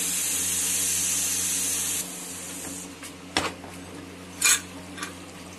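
A pressure cooker on a stove, cooking aloo keema palak, lets out a steady steam hiss for about two seconds, followed by a few faint, quick metallic clinks.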